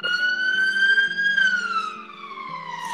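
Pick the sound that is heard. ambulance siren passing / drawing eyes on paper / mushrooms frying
ambulance siren passing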